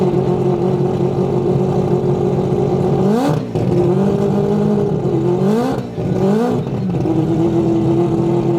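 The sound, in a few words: rotary engine car revving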